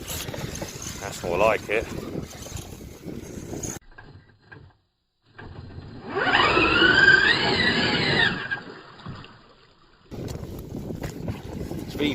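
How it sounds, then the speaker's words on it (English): A brushless 3660kv 3S FTX Outback Fury RC mud truck launches at full throttle through mud, its motor giving a rising high-pitched whine for several seconds. Someone speaks over wind noise before and after. "Full throttle launch."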